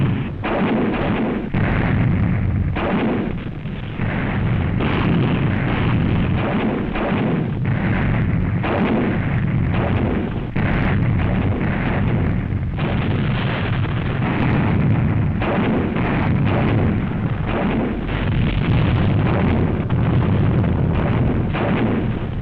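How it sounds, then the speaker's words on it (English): Canadian tanks lined up elbow to elbow firing a Montgomery-style artillery barrage, a dense, continuous roar of overlapping booms and blasts on an old newsreel soundtrack. "A typical Montgomery barrage is laid down as elbow-to-elbow Canadian tanks throw over a fiery sheet of lead"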